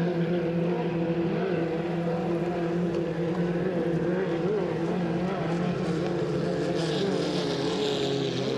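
A 2.5-liter stock racing powerboat engine drones loudly and steadily during a race, a sustained high-revving roar with a slight pitch shift, no talking.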